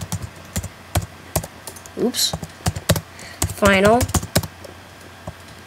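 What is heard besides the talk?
typing plugin code on a computer keyboard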